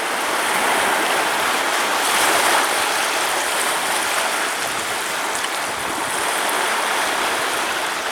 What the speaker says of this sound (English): Come on, you little waves. Out you go.